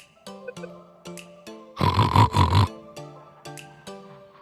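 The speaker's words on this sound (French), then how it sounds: "Je crois que j'ai entendu des cochons." A pig in a forest gives one loud, rough grunting snort burst of about a second, close by, between quieter tonal sounds before and after.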